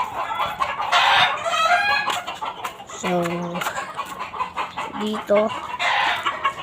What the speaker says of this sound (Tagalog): marami tayong manok. Nagsisitunugan.